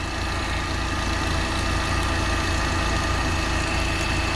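A Vauxhall Astra with a failing exhaust runs at a steady idle, a close, constant rumbling drone heard from beneath the car without any talking.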